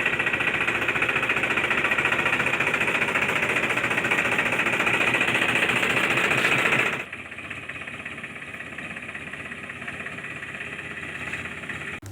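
A Mahindra tractor engine chugs in a loud, rapid rattling rhythm close by, then abruptly drops to a quieter idle-like hum.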